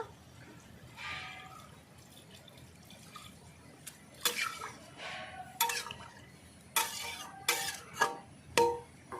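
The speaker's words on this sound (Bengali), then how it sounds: "এবার আমি জল দিয়ে দেবো পরিমাণ মতো" Water is poured into a pot of Rui fish and man kochu curry, with splashing and trickling pours and several sharp clinks of a vessel against the pot, close and fairly loud.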